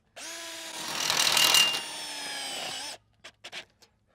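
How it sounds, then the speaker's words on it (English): A power drill drives screws into a hoop house bow, a close steady whirring run that climbs in pitch as the screw bites, then stops, followed by a few brief clicks and taps. "I start putting the screws on about 18 inches up"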